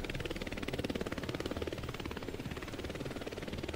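A Roblox helicopter in flight, its rotor making a fast, even chopping pulse that stays loud and steady throughout, with no voices.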